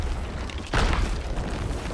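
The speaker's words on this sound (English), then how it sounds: "I just blew them all up." A sudden booming explosion in Sea of Thieves bursts out midway and rumbles on through a loud, noisy game soundscape.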